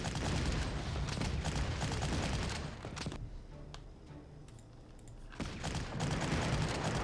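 Self-propelled artillery and gunfire crackle through a battle in the Panzer Corps wargame, set at Kursk, with dense loud bursts that drop to a quieter lull midway before the heavy firing returns.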